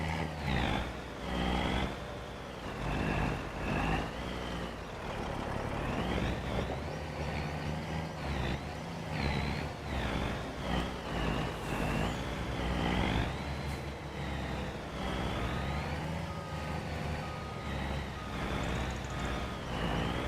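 Semi truck in Farming Simulator 25 reversing and maneuvering to park beside a garage, with a steady diesel engine drone, shifting revs and intermittent higher tones, continuous and fairly close throughout.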